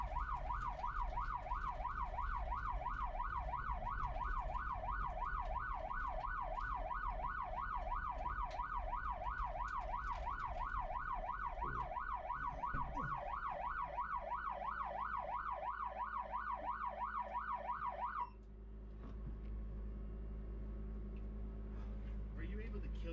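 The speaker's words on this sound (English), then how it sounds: "Are you able to kill your siren inside, or is it all from outside?" A police car's wailing siren sweeps rapidly up and down in a steady yelp pattern for a long stretch at Pikes Peak, then stops, leaving a low engine rumble.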